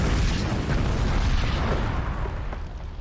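Fuel tank fumes touched by an open flame erupt in a fireball, a loud, sustained roaring boom that fills the clip and slowly fades.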